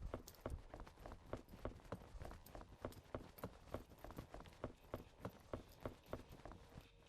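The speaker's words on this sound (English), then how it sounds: "I heard my own footsteps and it scared me." Footsteps in the horror video game The Backrooms: Lost Tape: a steady, even run of quiet steps at a brisk walking pace, repeating evenly for several seconds with no voices.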